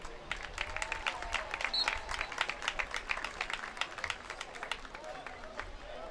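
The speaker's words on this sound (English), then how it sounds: "Another round of applause for Jeanette Harder." Audience applause at a high school football hall of fame induction ceremony, moderately loud clapping with individual claps distinct, sustained throughout and fairly distant in a large venue.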